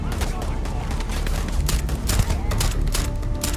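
Grenades exploding in the Starfield video game: a dense, loud barrage of overlapping bursts and blasts, continuous and rattling from start to end.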